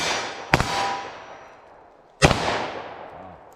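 Two sharp gunshots from a short-barrel 9mm pistol firing Freedom Munitions X-DEF ammunition crack loud and close about two seconds apart, each one ringing out in a long decaying echo.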